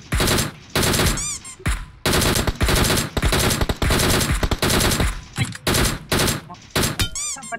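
Rapid bursts of automatic gunfire ring out in a battle royale video game, loud and close, with short gaps between volleys and bright chirping hit sounds mixed in.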